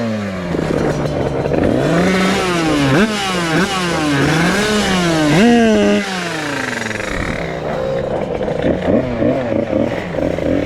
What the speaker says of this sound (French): Est-ce que ma moto démarre au premier coup de kick?